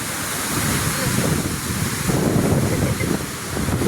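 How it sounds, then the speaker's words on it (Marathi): Loud, continuous rush of fast-flowing river water close by at a dam near Mandangad, Konkan, mixed with gusty wind buffeting the microphone. "तुम्ही पाणी समोर बघा किती सुसाटला पाणी जात आहे"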